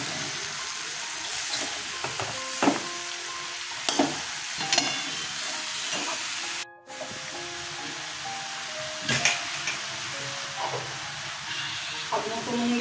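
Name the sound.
frying eggplant in spiced masala, stirring in pan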